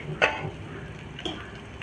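Garlic, ginger and onion frying in hot oil, a soft steady sizzle with two brief stirring clinks of a utensil against the pan, no voices.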